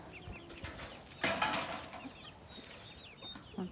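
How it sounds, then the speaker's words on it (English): Chickens clucking as they are let out of a coop on a small farm during morning chores, a rooster and chicks among them, with scattered short calls and a brief burst of flapping and rustling over outdoor background. "we're gonna release the chickens now"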